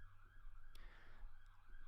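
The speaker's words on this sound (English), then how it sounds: "I don't know if you can hear that siren in the background." An emergency siren wails faintly in the distance, its rising and falling tone steady beneath a low background hum.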